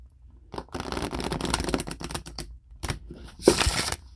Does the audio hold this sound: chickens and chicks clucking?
no